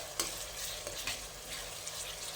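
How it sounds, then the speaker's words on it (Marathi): Onions frying in a heavy-bottomed pot for Hyderabadi chicken biryani, a continuous soft sizzle with a few light stirring clicks, moderately close and without talk. "आता हा कांदा आपण रंग बदलेपर्यंत"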